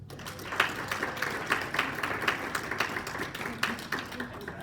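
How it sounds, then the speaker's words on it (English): An audience at a talk gives a steady round of applause, a dense patter of many hands clapping at moderate distance, continuous throughout with no voices over it. "let's give it a round of applause"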